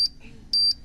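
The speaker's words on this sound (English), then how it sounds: "we got a timer in this bitch" A timer alarm goes off in short electronic beeping bursts, two to three sharp tones separated by brief gaps, fairly loud and close with faint room noise between.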